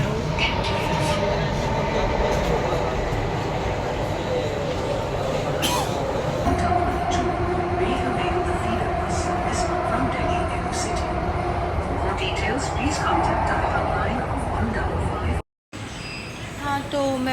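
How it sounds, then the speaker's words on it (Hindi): A Delhi Metro train running makes a loud, continuous rumble with rising whines and a faint wheel squeal. Muffled voices are heard over it, and the sound cuts out briefly near the end. "ये थी मेरी मेट्रो ट्रेन"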